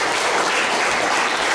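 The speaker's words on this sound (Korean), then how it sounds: "자, 박수로 환영합니다." Dense, steady applause from an audience welcoming a guest to a talk show gathering in a Jinju coffee shop, loud and continuous throughout with no break.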